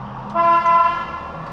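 A trolley horn honks in a sustained blast of about a second, fairly close, over steady low street rumble in Mendoza, Argentina, heard from a hotel room.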